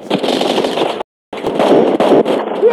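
Loud, dense automatic gunfire bursts from the mobile shooter game Modern Strike Online rattle close up, with a sudden brief cut to silence before the firing resumes.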